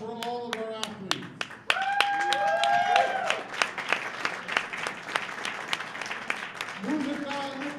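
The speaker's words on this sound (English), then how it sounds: "one final big round of applause for all of our athletes" Audience applauding athletes at a women's bench press championship, a loud sustained round of clapping with sharp individual claps on top, with an announcer's voice heard at the start and again near the end.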